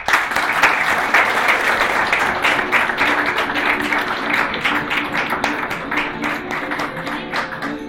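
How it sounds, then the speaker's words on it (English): An audience at an art teachers' honour ceremony applauds an award recipient, a thick burst of clapping that starts strong, then thins slightly while staying steady, with some individual claps standing out. "please give a big hand for our first year topper, Ms. Rishi Aacharya."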